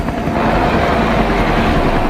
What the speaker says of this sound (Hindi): वो गया हमारा हेलीकॉप्टर